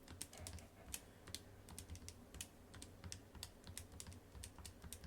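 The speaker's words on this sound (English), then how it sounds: "So now I'm going to go ahead and type that all into my calculator." Fingers tap out numbers on a calculator keypad, producing a steady run of small, quiet clicks over a faint background hum, with no talking.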